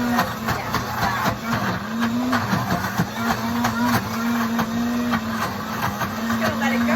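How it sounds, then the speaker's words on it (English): A Pampered Chef Deluxe Cooking Blender grinds peanut butter loudly and continuously, its motor pitch wavering as thick contents churn, with occasional clunks; a voice speaks over it briefly. "I mean, it is a blender, so yeah, it's loud."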